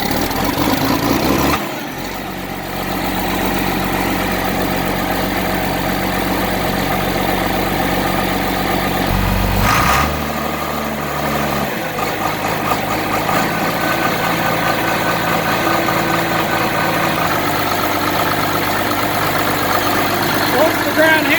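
A John Deere 4250 tractor idles after a hard cold start, its diesel rumble steady and close, with a couple of abrupt shifts in engine note along the way and occasional voices over it.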